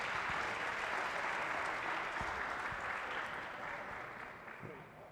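A crowd claps steadily in warm applause for a senior at a UPIKE women's basketball game against Lindsey Wilson College, a dense continuous patter that slowly fades toward the end.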